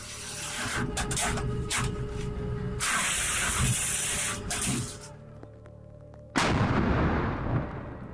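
Heavy artillery fire from a 2S1 self-propelled howitzer in combat near Bakhmut: roaring, hissing blasts rush out in bursts, the last one a sudden loud discharge followed by a fading rumble.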